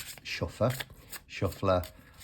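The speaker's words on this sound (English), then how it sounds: "it shuffles like a dream. I'm not a ripple shuffler. I'm an overhand shuffler" A mini prototype Oak, Ash & Thorn oracle card deck is overhand shuffled in two quick bursts of soft papery rubbing and flicking, heard close up under a person talking.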